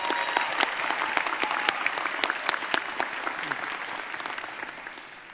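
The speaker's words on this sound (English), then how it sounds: "Give her a round of applause." Audience at a college commencement ceremony applauding a county school superintendent, a sustained crowd of clapping with crisp nearby hand claps over a broad wash, fading slightly toward the end.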